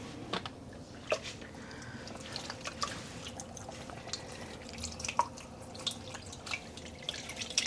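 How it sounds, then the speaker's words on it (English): Water drips and trickles off a freshly dyed yarn skein as it is squeezed, with soft irregular splashes and faint squishing close by at low volume. "Let's squeeze out some of the water from the skein, mostly to not make a mess"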